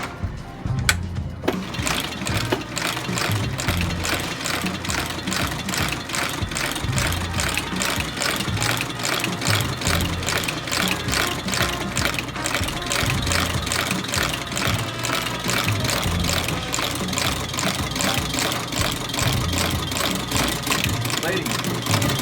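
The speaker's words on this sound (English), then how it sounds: "now we're going to stitch the sole onto the boot" A sole stitching machine sewing a sole onto a boot in a shoe repair shop: rapid, steady mechanical clacking and whirring that runs continuously at close range, with a voice talking over it.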